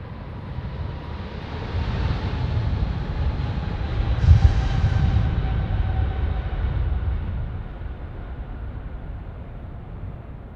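A United airliner on the runway at Sydney Airport gives off a broad, steady jet roar that swells near the middle and then slowly fades, heard from a distance with no voices.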